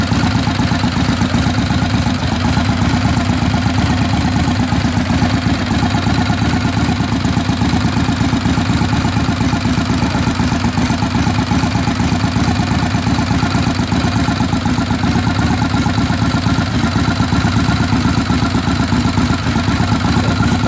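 A 1948 Harley-Davidson FL Panhead overhead-valve engine idles steadily and loudly up close, a continuous low, lumpy rumble with mechanical clatter that holds even for the whole stretch, no voices.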